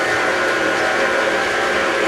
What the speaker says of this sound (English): I'm going to put it into the mixer, and I like to put it on stir at the beginning.